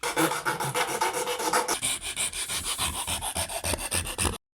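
Steady back-and-forth sanding of filler putty on a part of a 125 CBR motorcycle being prepped for stunt riding, with close, loud, rhythmic rasping strokes that continue without pause for several seconds.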